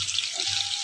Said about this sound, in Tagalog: Lagyan natin siya tubig